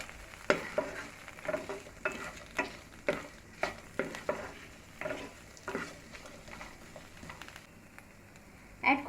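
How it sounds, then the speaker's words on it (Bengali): Dried shrimp fry lightly in a small amount of oil, a soft steady sizzle punctuated by regular scraping stirs against the pan, with occasional speech. "হালকা ফ্রাই করে নিচ্ছি"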